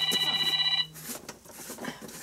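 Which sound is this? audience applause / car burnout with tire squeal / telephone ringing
telephone ringing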